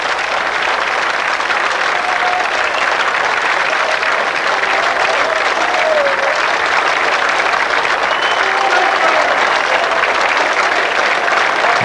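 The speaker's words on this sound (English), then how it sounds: "The applause once more rings out from every corner of the ground for Wycombe." A football crowd applauds Wycombe Wanderers all around the ground, a dense and continuous roar of clapping from many thousands that stays loud and unbroken throughout.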